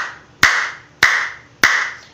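Three sharp, hollow claps made with cupped hands, spaced about half a second apart, each one loud and close with a quick decay.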